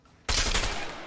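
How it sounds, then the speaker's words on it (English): Assault rifle fire in a video game, aimed at a lock: a sudden loud burst of rapid shots kicks in after a short quiet lead-in and rings on for the rest of the moment. "I'm going to shoot the lock."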